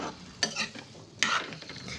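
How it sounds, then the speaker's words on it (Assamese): Pumpkin pieces frying in a wok with onion and chilli give a soft sizzle, broken by two sharp stirring scrapes of a utensil against the pan. No one speaks. "এয়া ৰঙালাওৰ চব্জিখিনি বহাই দিছোঁ আৰু কিছু সময় ভাজি ল'ম।"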